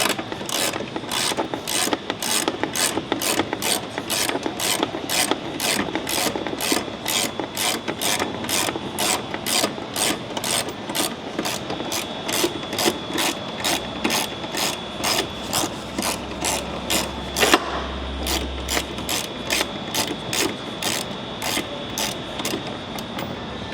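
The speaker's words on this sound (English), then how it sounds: "we're going to remove the bolt that holds the intake box to the fender" A hand ratchet clicks in fast, even bursts while backing out the intake box bolt on a Ford Raptor R 5.2L V8, the rapid pawl ticks close and crisp for the whole stretch.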